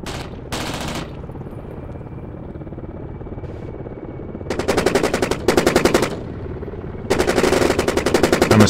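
Rapid machine-gun bursts in DCS World strike an attack helicopter, loud rattling volleys in several long runs separated by brief gaps, with a faint engine drone beneath.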